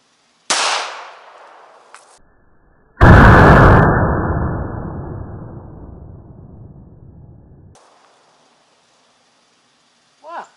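Gunshots from an Ajax gun fired outdoors: a sharp crack, a second brief pop, then a loud blast with a long decaying roar lasting several seconds before silence.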